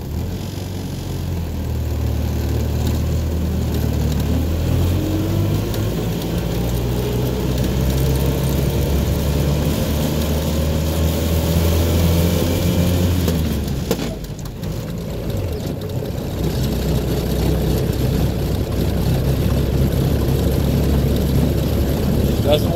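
A Land Rover Series II engine droning steadily in low range fourth gear with a detonated layshaft, loud and close throughout, its tone rising and falling with revs and a brief dip midway.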